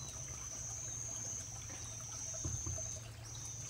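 Water trickles into a small pond in Mae Taeng, a soft, steady dribble heard close and quiet, with a faint high tone running along behind it.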